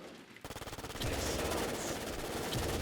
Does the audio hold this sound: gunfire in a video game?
yes